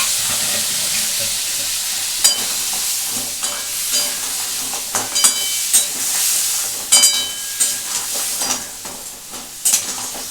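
Crab frying in a pan with a mixed spice paste stirred in, a loud continuous sizzle and hiss punctuated by repeated sharp spatula scrapes and clinks against the pan, no voices.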